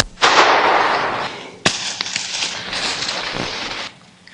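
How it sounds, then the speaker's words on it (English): A single loud, sharp gunshot rings out in the woods during a squirrel hunt, followed by rustling and a few softer knocks as the report fades. "Good shot, Justin."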